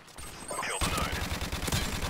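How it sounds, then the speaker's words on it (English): Gunfire in Call of Duty: Modern Warfare Remastered on the Beach Bog multiplayer map, a dense burst of rapid shots and battle noise that starts after a short quiet lead-in and carries on loud and continuous. "Why am I even shooting back?"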